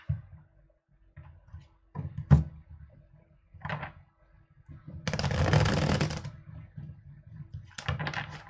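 Tarot cards are shuffled in brief riffles and taps, ending in one sustained whirring riffle of about a second. The sound is close and fairly quiet, with short pauses between bursts.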